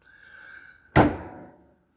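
A Rossi single-shot break-action hunting rifle snaps open with one sharp metallic clack after a faint quiet lead-in, close and brief.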